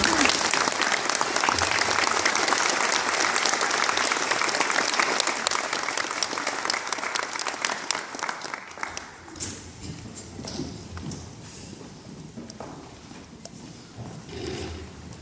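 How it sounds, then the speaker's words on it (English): An audience at a sixth grade school promotion ceremony bursts into dense, loud applause that holds steady for several seconds, then thins out and fades into scattered clapping and murmuring. "So give them a big round of applause."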